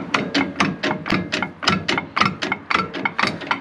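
A worn trailer hitch jaw knocks and rattles in a fast, irregular series of sharp metallic clacks, close and fairly loud, with no other sound around it.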